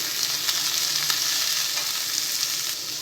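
Cut ivy gourd pieces dropped into a pan of fried onions, producing a loud, continuous close sizzle with a dense, even hiss throughout.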